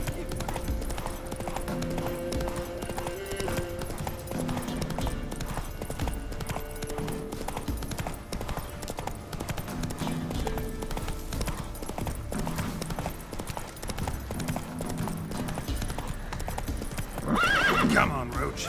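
Geralt's horse Roach gallops in The Witcher 3, a fast continuous run of hoofbeats under music and talk, ending in a loud neigh near the close.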